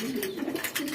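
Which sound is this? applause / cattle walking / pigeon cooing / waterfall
pigeon cooing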